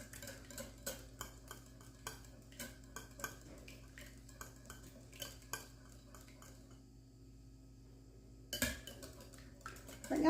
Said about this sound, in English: Does anyone know how long you have to beat eggs until they are frothy?